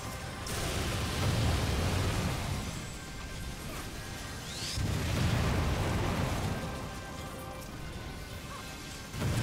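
Repeated booming explosions in Final Fantasy XIV, two big rumbling bursts with crackling debris and a lower roar between them.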